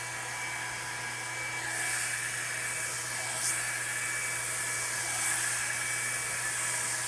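A combined brush-and-blow-dryer hot-air styler drying hair runs as a steady, close, even airflow hiss and motor whine throughout, with no talking.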